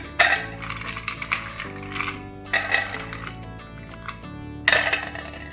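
Ice cubes dropped into a glass for watermelon juice with lemon syrup, a series of bright clinks and chinks in a few bursts against a low steady background hum, close by, no talk.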